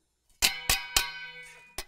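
Pot lids banged together like a cymbal, five loud metallic clangs with ringing overtones, the first three evenly spaced, then a softer hit and a final sharp crash, with no voices.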